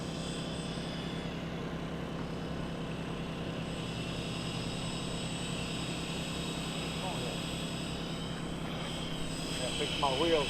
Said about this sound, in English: He's fixing to put that jet in the air.